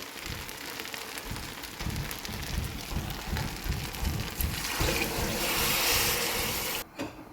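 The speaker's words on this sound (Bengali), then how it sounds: "এখন পরিমাণ মতো পানি দিয়ে দেব" Water poured into a pot of rice frying for pulao makes a steady loud splashing and sizzling rush that runs for several seconds, then cuts off abruptly near the end.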